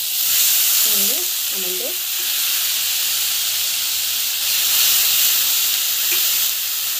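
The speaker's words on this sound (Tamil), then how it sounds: "நல்லா வதக்கணும்." Ingredients sautéing in a pan give a loud, continuous close sizzle and hiss that fills the whole stretch, with a brief spoken phrase early on over the frying.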